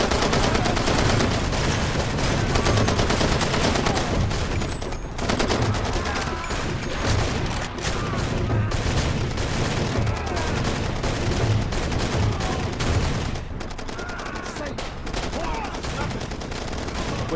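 Loud, nearly continuous gunfire fills a Far Cry 2 firefight: rapid bursts and fusillades overlap almost without pause, thinning briefly near the end before resuming.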